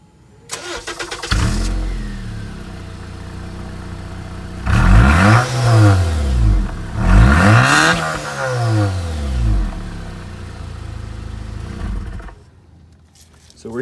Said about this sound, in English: So first we'll get the first startup so you can hear what it sounds like